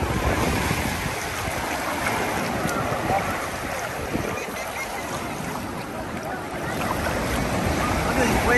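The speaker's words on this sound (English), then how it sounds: "Look at these waves here." Ocean surf at Waikiki Beach, Hawaii, a continuous rushing wash of breaking waves with heavy wind buffeting the microphone, steady and close throughout.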